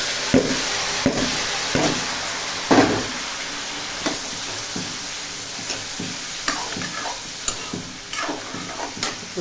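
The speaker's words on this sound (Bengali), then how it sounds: "এখন এখানে আছে বিনস, গাজর, কড়াইশুঁটি আর ভুট্টা, এগুলো সব একবারে ভেজে নেব।" Beans, carrots, peas and corn fry together in a pan, a continuous sizzle punctuated by repeated sharp clicks and taps of a utensil stirring and scraping.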